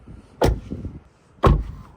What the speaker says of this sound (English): here's the difference in sound when you close the doors.